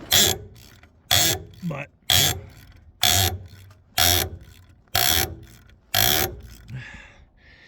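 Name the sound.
ratchet loosening a worn, stuck bolt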